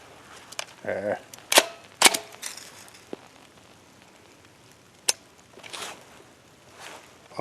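A Hi Point pistol firing hard-primer ammunition from a magazine, giving a few sharp, loud reports spaced irregularly with quieter gaps and background rustle between shots.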